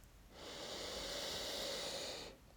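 A single long, slow breath during a morning full-body exercise routine, a soft airy rush that swells and holds for about two seconds before fading, close and quiet.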